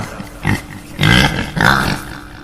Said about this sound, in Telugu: పంది మూలిగినట్టు శబ్దం